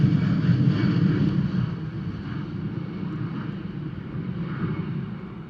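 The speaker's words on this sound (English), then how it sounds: "EasyJet keeping it relatively low for us this morning" A low-flying EasyJet airliner over Bristol Airport on an early morning, its broad engine roar steady and loud throughout, easing slightly as it passes, with no talk.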